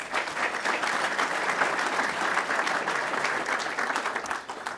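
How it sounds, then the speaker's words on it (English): Audience applause at a political event for a Senate minority leader, steady dense clapping sustained for about five seconds at moderate loudness, with no voices standing out. "Give him a round of applause."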